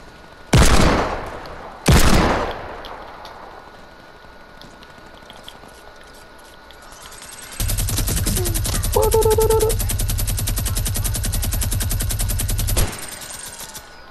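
Fortnite gunfire: two loud single shots close together, then a long, rapid automatic burst of steady rhythmic firing lasting about five seconds under constant game noise.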